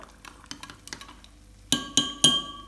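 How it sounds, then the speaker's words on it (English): A spoon gently stirring chicken stock with boiling water in a jug: soft light scrapes and taps, then three sharper ringing clinks against the jug, close and quiet. "and a little gentle stir"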